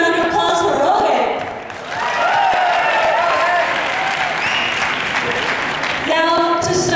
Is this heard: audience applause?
yes